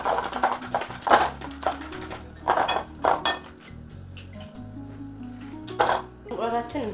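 Organic eggs and spices are whisked in a bowl with a utensil, giving irregular bursts of clinking and scraping against the dish while a person talks.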